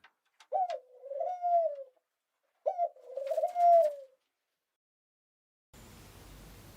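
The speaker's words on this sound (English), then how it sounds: "Pigeons drive me mad on the balcony in the morning." Two low, throaty pigeon coos sound one after another in near silence, close and clear, followed by a patch of soft steady hiss.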